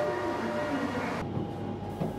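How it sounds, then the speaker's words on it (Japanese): A train pulls out of Fukushima station on a JR East Shinkansen route, producing a steady mechanical hum and low rumble that shifts midway, heard from on board. "列車は福島駅を出発。"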